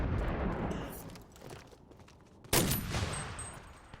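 Rapid semi-automatic shots from a PDP weapon in a video game, heard as a run of sharp cracks over busy game noise, with one loud, close blast near the end and no talking.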